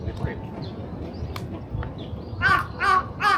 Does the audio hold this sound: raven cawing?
yes